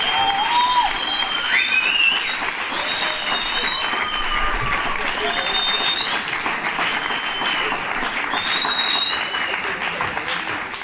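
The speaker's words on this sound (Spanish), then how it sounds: "vamos a recibir al pastor Diego Galván con un fuerte aplauso en esta noche." A church congregation applauding to welcome a visiting pastor at an evening service, sustained loud clapping with a few cheers and whistles rising above it for the whole stretch.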